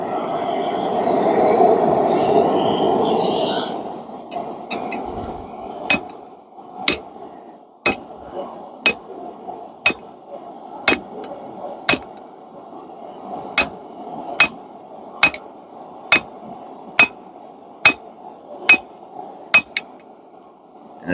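Hammer blows on hot steel at an anvil in a forge, a slow, even series of sharp metallic rings, about fifteen strikes spaced roughly a second apart, loud and close after a brief roar of the fire.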